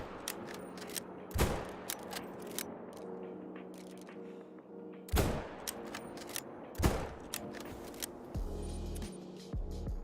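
Rifle shots on a moose hunt in the Call of the Wild hunting video game: three loud, separate cracks spread several seconds apart over quiet outdoor ambience.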